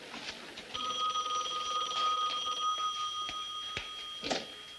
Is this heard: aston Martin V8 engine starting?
no